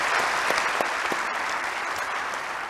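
Steady audience applause at a conference session fills the space, a dense even wash of many hands clapping with no talk over it.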